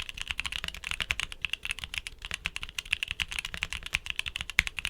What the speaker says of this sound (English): Here's the sound test.